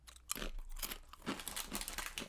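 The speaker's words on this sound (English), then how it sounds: "maybe I will eat a cracker while you guys look around" Someone crunches and chews a cracker up close, with crisp irregular bites and crumbly mastication over a couple of seconds, alone and fairly quiet.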